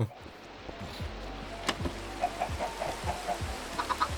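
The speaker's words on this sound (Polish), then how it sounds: "No zabierz tą kurę mi stąd" In Minecraft survival, a chicken gives a run of short clucks near an in-game furnace, repeated squawky bursts picking up toward the end over a faint background bed, with a brief thump midway.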